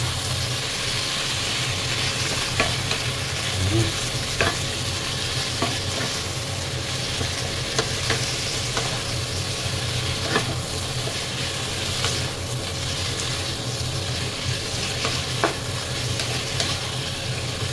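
Pork ear and belly frying for adobo, stirred in the pan: a steady loud sizzle with a constant hiss and repeated scraping strokes of the utensil, no talking.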